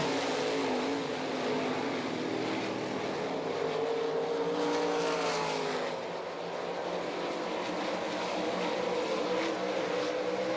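410 sprint cars racing on a dirt track at an open sprint car event, a loud sustained engine roar that rises and falls in pitch as the cars pass down the backstretch into a turn.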